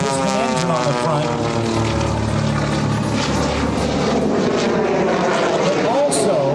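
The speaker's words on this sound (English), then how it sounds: "fly with the aid of not only the 450 horsepower Pratt & Whitney radial piston engine on the front" A 1929 airplane's 450 horsepower Pratt & Whitney radial piston engine drones loudly and continuously at an airshow, a deep pulsing roar that holds steady throughout.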